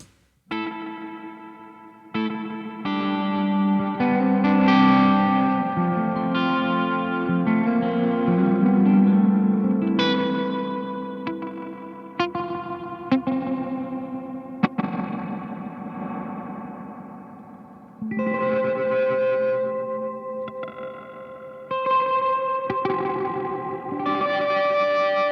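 An electric guitar runs through a Beautiful Noise Effects When The Sun Explodes pedal set dirty, giving distorted, heavily reverberant chords and notes that swell and decay, played alone without talk.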